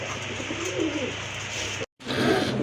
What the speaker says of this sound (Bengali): আরেকটা কবুতর দেখতে পাচ্ছেন